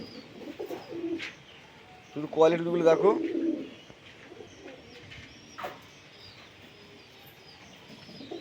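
Lotan pigeons with feathered feet in a fancy pigeon loft give a short burst of throaty, bubbling cooing in the middle, with someone talking quietly before and after.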